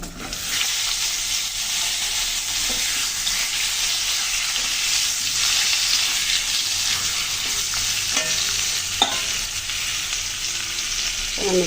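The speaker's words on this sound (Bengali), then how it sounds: "মাছ ভাজার তেলের ভিতরে আমি পটলগুলো ভেজে নেব।" Pointed gourd (potol) frying in leftover fish-frying oil, a steady loud sizzle that runs the whole time with a few faint stirring clicks, no talk.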